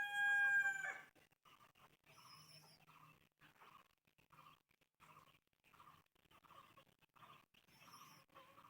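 After a brief rooster crow at the start, hens in a poultry coop keep up soft, faint clucking in short bursts at a distance, with no one talking.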